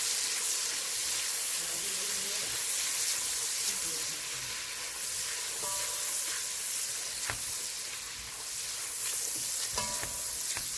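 Minced garlic, about one and a half tablespoons, sizzles in a pan with occasional scrapes and clinks of stirring, a steady close frying hiss with no talking.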